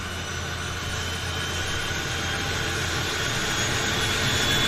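A de Havilland Twin Otter floatplane's PT6 turboprop engine spools up at a Vancouver harbour floatbase, giving a steady, loud whining roar that slowly builds in strength, heard alone without voices.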